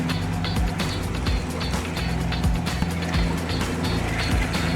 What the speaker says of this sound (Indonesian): Maksimalkan putaran mesin untuk mendapatkan hasil yang maksimal.